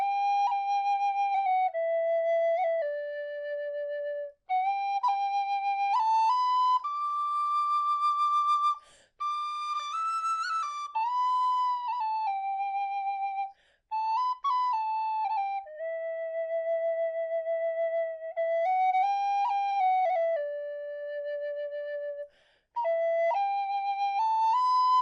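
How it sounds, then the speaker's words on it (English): A D tin whistle plays the slow air Galway Shawl in its lower register, a pure, clear solo melody of sustained notes with brief breath pauses, close and alone. "Let's try a lower version of Galway Shawl on the D whistle."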